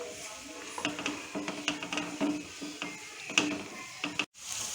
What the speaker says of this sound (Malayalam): ഇനി ഇതൊന്ന് നന്നായിട്ട് വഴറ്റിയെടുക്കാം.